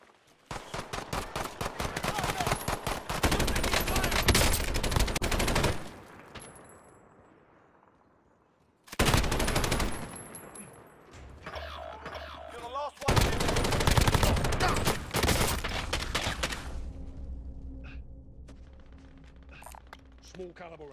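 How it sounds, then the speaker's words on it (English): Small-caliber gunfire in Call of Duty Warzone comes in loud, dense bursts of rapid shots, broken by a near-silent pause around the middle before further volleys and a fading rumble. "Small caliber rounds"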